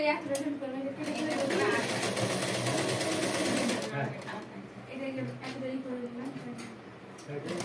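A sewing machine stitches a churidar neckline, buzzing loudly and steadily for about four seconds before stopping, after which someone speaks over the quieter room.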